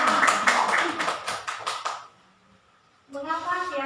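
A classroom group claps together in a quick patterned burst for about two seconds, then falls quiet before a voice begins speaking.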